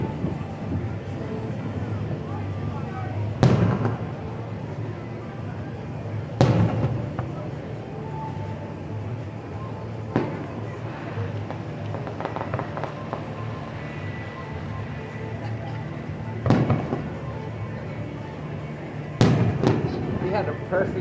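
July 4th fireworks show at Pompano Beach, Florida, heard from a distance: several delayed booming bursts spaced a few seconds apart over a murmuring crowd, with people chatting throughout.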